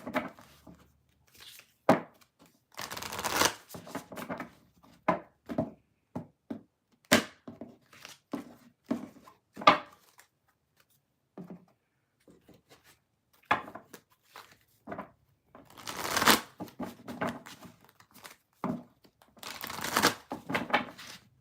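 Tarot card decks being shuffled by hand in a quiet room, a long run of dry riffling and papery slaps in irregular bursts, some short and sharp, others longer rustling flurries, close and fairly soft.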